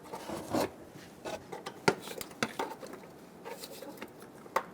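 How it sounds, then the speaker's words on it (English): A trim tool prying a gray plastic retainer off a 2012-2017 Toyota Camry during front ABS wheel speed sensor replacement, with close, short scraping and clicking snaps scattered over a few seconds, fairly quiet. "Just use your trim tool and pop it off."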